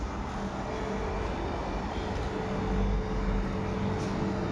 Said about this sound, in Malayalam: ഷാർജ എയർപോർട്ടിലേക്ക് ലാൻഡ് ചെയ്യാൻ പോകുന്നു.